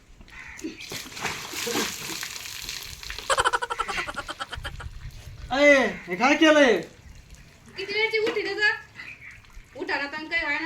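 Water splashes and sloshes noisily for a few seconds, then children's voices speak up close.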